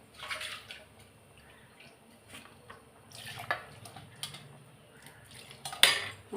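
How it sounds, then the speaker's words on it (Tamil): A pressure cooker being washed at a sink, with running tap water, metal clanks and scrubbing rattles in short bursts, close and moderately loud. "குக்கரை நல்லா கழுவிட்டு"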